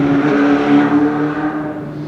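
A motorbike goes past a garden with a koi pond in winter, its engine drone steady and fairly loud across the moment, then fading slightly as it moves away.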